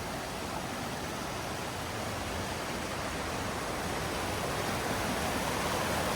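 Rushing water at Zapata Falls roars as a loud, steady, unbroken wash that fills everything from deep lows to a hissing top, unchanged for the whole stretch with no voices.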